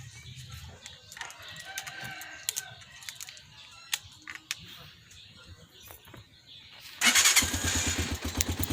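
A cold Honda TMX 125 motorcycle, freshly washed, kicks into life near the end with a loud, steady idle, following quieter handling noises and a rooster crowing in the background.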